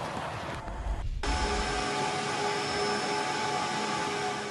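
Steady, dense broadband hum of a data center in Muskogee County, Oklahoma, continuous and fairly loud with faint tonal whines running through it and a brief low rumble near the start.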